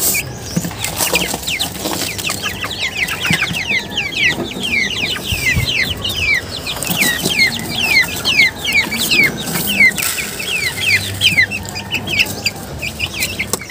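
Young Brahma chicks peeping continuously, a dense chorus of high, rapid chirps up close, alone without talk.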